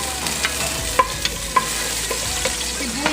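Garlic sautés in a pan with onion and tomato ready to follow. A steady, close sizzle of frying runs throughout, with a few light stirring clinks and no talking.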